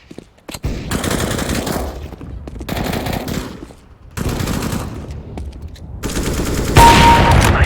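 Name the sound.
gunfire in the video game CS:GO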